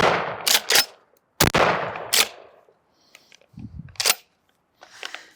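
A budget pump shotgun fires 7.5 birdshot outdoors, loud sharp blasts with short echoing tails, several spaced shots each followed by the clack of a pump action, close and alone.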